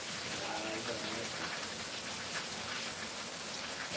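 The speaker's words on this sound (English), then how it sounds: "just listen to the rain" Steady rain falls on a surface in a broad, even hiss with no break.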